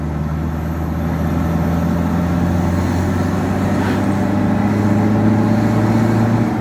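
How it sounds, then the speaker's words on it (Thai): A Toyota D4D diesel pickup pulls hard at full throttle in second gear, its engine drone loud, close and steady, with the pitch climbing smoothly throughout and no pause. "เกียร์สองครับ อันนี้คือเหยียบคันเร่งมิดเลยนะครับ"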